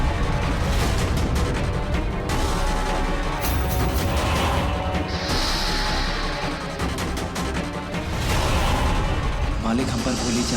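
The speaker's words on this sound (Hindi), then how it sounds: "मालिक हम पर गोली चला रहे हैं" Gunfire in a Hindi TV drama scene, a dense loud barrage of booming shots and bursts running throughout, mixed with music and effects while voices speak over it.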